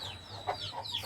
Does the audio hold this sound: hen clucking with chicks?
yes